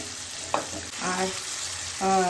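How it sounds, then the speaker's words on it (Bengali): Quiet, steady sizzle of capsicum and onion frying in a new wok, with a stir and scrape of the pan and brief tonal whines from a nearby appliance. "জাস্ট একটু এপিটোপিট নাড়াচাড়া করবো"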